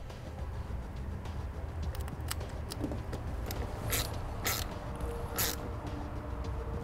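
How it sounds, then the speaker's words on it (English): Negative battery cable being reattached to the terminal on a 2016 Chevrolet, with faint clicks, scrapes and ratcheting metal taps scattered over a steady low background hum and no talk. "Now we'll take our negative battery cable and reattach it to the battery."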